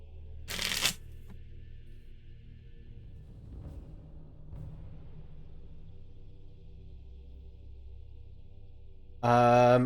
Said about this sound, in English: I need to shuffle again.